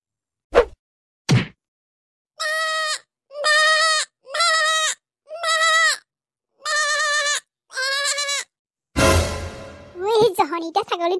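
A cartoon goat bleats repeatedly in a rhythmic series of about seven wavering calls, loud and close, preceded by two sharp clicks and followed by a burst of noisy animated voices.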